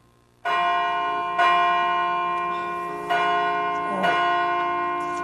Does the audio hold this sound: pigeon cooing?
no